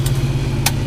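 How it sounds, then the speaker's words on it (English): A John Deere 4230 tractor engine idles at low throttle, a steady, even low rumble running close by and unbroken, with a couple of brief clicks over the top. "Throttle it down to where it's just still idling."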